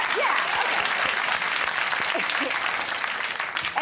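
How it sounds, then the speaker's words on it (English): Studio audience applause on a late-night talk show, a steady, loud wash of clapping filling the whole stretch with faint voices mixed in underneath. "smattering of applause thing just worked"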